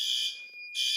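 Garage and house fire alarm systems sounding together in full alarm, a piercing high electronic tone blaring loud and close, cutting off briefly mid-way before returning.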